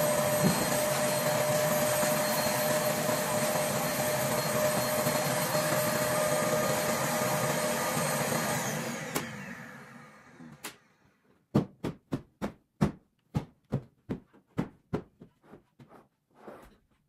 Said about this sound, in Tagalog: So ayan, vacuum na tayo dito.